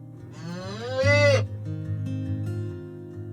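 A large farm calf moos and cries in a barn, one drawn-out, rising bellow that swells loudly and breaks off, with lower lowing and quieter animal sounds continuing around it.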